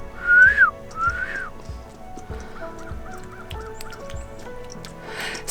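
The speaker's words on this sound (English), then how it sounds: "I have a whistle I do for them when they're fed." A person whistles a rising-falling call to crows at feeding time twice, then a series of six short, evenly spaced whistled notes, with soft bumps and rustling in the background.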